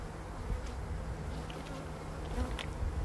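Honey bees buzzing inside a hive colony prepared for wintering, a close, continuous droning hum with a few individual bees flaring louder as they pass near, no talking.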